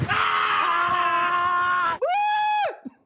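A person imitates a screaming goat with a loud, strained, wavering cry lasting about two seconds, then a second shorter, higher bleating scream that cuts off abruptly.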